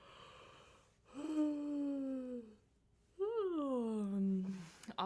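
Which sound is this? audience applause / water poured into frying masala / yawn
yawn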